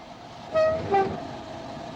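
A steam train on the Mallaig branch line gives two short whistle toots about a third of a second apart, fairly loud over a steady low background rumble.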